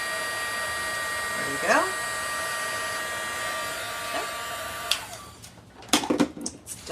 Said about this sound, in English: in our heat tool